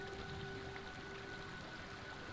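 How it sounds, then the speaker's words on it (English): Rain falls steadily in the survival game Smalland: Survive the Wilds, a soft, even patter of drops that continues without a break at a faint level, along with a thin steady tone and no speech. "there is a rain falling"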